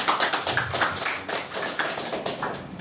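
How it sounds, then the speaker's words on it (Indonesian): Audience applause at a beauty clinic press conference: steady, dense clapping from a crowd, continuous and fairly loud throughout. "Boleh saya minta tepuk tangannya terlebih dahulu?"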